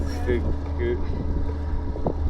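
A boat running on a 40 hp Suzuki outboard motor, a steady low engine drone with wind buffeting the microphone, heard close and continuous under a voice speaking.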